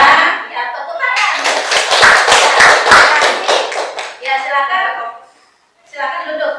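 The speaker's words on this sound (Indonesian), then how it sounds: "tepuk tangan" A class of children clapping their hands together in a series of sharp, fairly loud claps over a few seconds, with a teacher and kids talking before and after.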